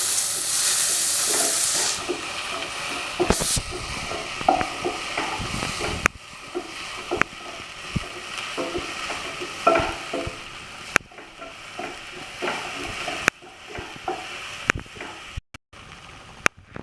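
Tomato and salt fry in a pan for pepper chicken, a steady close sizzle and hiss broken by scraping stirs and occasional sharp clicks of a utensil against the pan.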